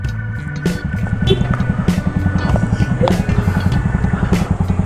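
A motorcycle engine runs steadily while riding, with a low throbbing pulse that stays close and constant throughout, and no talking over it.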